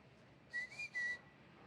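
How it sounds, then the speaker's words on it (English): Three short, quick whistles in a row from a person calling a dog's attention during training, clear and moderately close against a quiet background. "You can whistle, get their attention."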